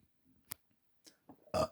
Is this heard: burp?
yes